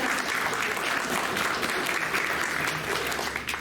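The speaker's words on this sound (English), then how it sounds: "So let's give him a round of applause." A live audience claps in a sustained round of applause at a talk about an arson-detection dog, steady and dense throughout without a break.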